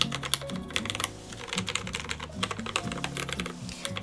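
Fast, steady typing on a Norytek70 mechanical keyboard with no foam inside, giving a hollow, clacky sound with dense overlapping keystrokes, close and moderately quiet.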